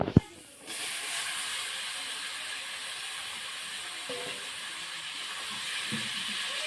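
After a sharp clatter, spice paste with vine stems sizzles in a pan during a stir-fry for a fish-head curry, a steady close hiss that continues on its own with faint scraping.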